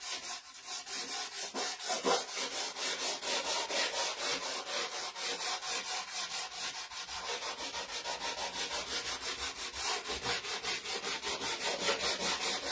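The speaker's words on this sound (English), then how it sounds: "I'm just going to sand this a little bit." A wooden Christmas ornament sign is hand-sanded in quick, even back-and-forth strokes, a close rhythmic scratchy rasp that runs steadily throughout.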